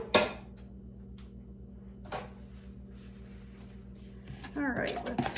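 A spoon stirs chicken salad in a bowl, giving a couple of sharp clinks early on and then a busier scraping, clattering stir near the end over a low steady hum.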